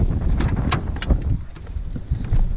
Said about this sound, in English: pretty windy this morning